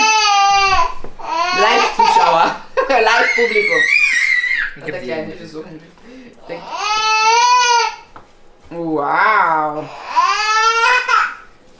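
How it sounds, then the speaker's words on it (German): Hungry, fussy young children whining and crying at a family meal, in drawn-out wails and whimpers coming in bursts close by, with brief speech between them. "die Kinder sind schon so hungrig, dass sie schon quengelig sind fast"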